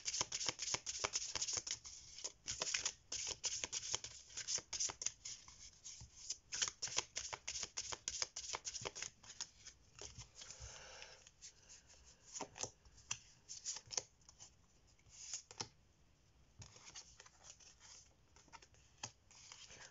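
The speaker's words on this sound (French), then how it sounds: "Alors, on va tirer 3 cartes pour avoir des éléments en plus." Tarot cards are shuffled and drawn for a reading, with rapid, close riffling and flicking clicks in dense bursts that continue with short pauses throughout.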